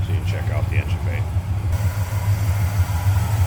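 A 1964 Chevrolet Chevelle Malibu SS with a 283 V8 idles with a steady low rumble and a slight lope, close by under the hood, while a person talks over it near the start.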